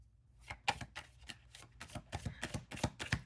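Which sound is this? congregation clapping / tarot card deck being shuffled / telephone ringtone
tarot card deck being shuffled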